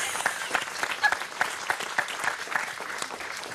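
A French audience applauds in a brief, dense burst of clapping, with voices talking faintly underneath.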